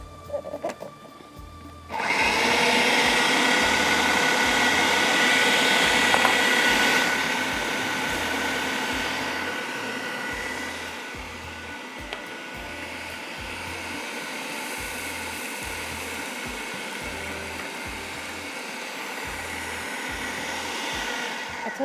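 An electric grinder whirs loudly as it processes minced meat with green chillies, onion, poppy seeds, coconut, gram flour, red chilli, salt, ginger and garlic, starting up after a brief pause and running steadily for about twenty seconds with slight pulsing.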